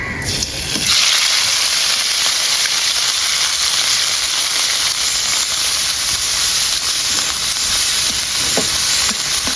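Onion paste hits hot oil with bay leaf in a pan and sets off a loud, continuous sizzle and hiss that carries on steadily without pause.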